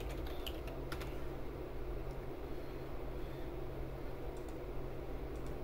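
Steady keystrokes on a computer keyboard while text is entered in caps in motion-tracking software, a quiet close clatter over a constant low hum.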